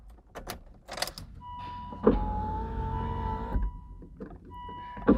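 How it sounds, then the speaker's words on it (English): A steady electric door mirror motor whine runs for about a second and a half, framed by clicks and thumps from inside an Aston Martin DB9, fairly close. "we're going to try the door mirror adjustment as well"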